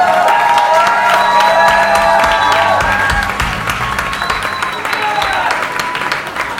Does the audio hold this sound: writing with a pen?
no